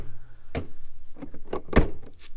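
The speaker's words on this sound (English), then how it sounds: "they're slam latch baggage doors" Slam latch baggage doors on a 2020 Grand Design Reflection 295RL fifth wheel RV, several sharp close thuds and latch clacks in quick succession, the loudest near the end, amid faint handling noise.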